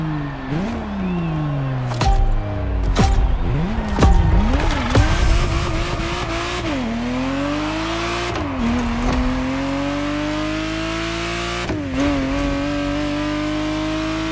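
Ferrari Testarossa flat-12 engine in the racing game The Crew Motorfest, revving hard through repeated gear changes with rising and falling pitch, loud and close, with brief tire squeal and no talking.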